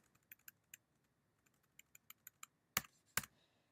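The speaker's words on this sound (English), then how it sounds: "I'll just type out num here." Light, sparse keystrokes tap on a computer keyboard, quiet and close, ending with two louder clacks like the space bar or enter key.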